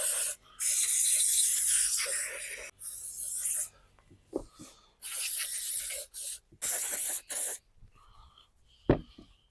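Aerosol cleaner is sprayed onto a brushcutter in several long, loud hissing bursts with brief gaps between them, close to the microphone, followed by quieter handling noises and a soft thump.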